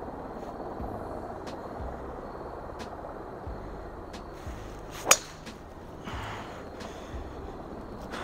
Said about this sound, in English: It sounds like there's 1 or 2 helicopters just circling around, like back there.